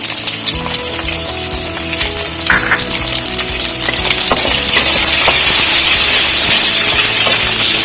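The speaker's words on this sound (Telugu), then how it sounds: "ఎండుమిరపకాయలు ఏడో ఎనిమిదో చెప్పాను కదా ఇవి వేస్తున్నాను" Dried red chillies frying with lentils, mustard seeds and fenugreek in hot oil, a loud steady crackling sizzle with scattered pops and light clinks of a utensil, growing denser toward the end, no speech.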